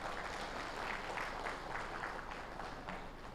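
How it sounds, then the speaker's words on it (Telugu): An audience at a meeting in the Tajmahal Hotel claps together in a steady, fairly faint and distant ovation that holds evenly throughout. "ఒకసారి గట్టి క్లాప్స్ అండి"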